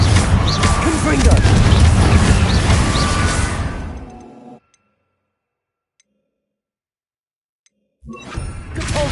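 Confringo fire spell blasts in the Hogwarts Legacy video game, a loud dense burst of crackling, booming impacts lasting about four seconds, falling to silence, then another blast beginning near the end.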